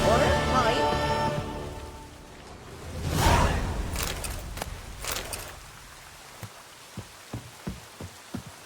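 Rain pours steadily in The Witcher 3 video game, a broad hiss beneath a character's voice at first, then thinning out with a few soft, scattered knocks toward the end.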